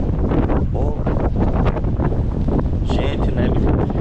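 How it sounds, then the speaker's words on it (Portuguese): Strong wind on a blustery day in Russia, roaring continuously and loudly across the microphone with constant buffeting gusts and no letup. "lutando contra o vento"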